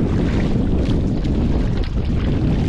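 Strong southwest wind buffets the microphone at sea aboard a small boat off Bulan, Sorsogon, a loud, steady roar with rushing water and no pauses throughout.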